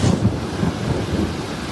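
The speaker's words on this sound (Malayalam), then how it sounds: "ഉച്ചയ്ക്ക് ശേഷം കോഴിക്കോടിന്റെ നഗര മലയോര മേഖലകളിൽ ഇടിമിന്നലോടുകൂടി ശക്തമായ മഴ പെയ്തു." Heavy afternoon rain pours down with thunder over city and hill areas of Kozhikode, a dense, steady roar of rainfall with low rumbling thunder running through it, loud and continuous with no voices.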